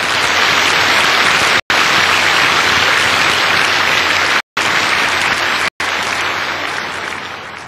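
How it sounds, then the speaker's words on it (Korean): Loud, dense congregational applause in a church service, a continuous roar of many hands clapping, briefly cut by a few abrupt edit gaps and tapering slightly at the end. "박수 한번 보내주세요."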